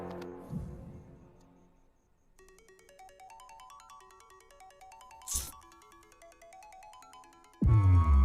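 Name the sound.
mobile phone ringing with incoming call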